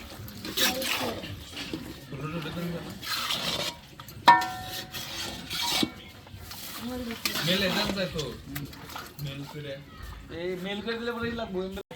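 Goat meat stirred and seared in a pot on a village kitchen fire, with a spoon scraping and clinking against the metal and a soft sizzle, under steady talk.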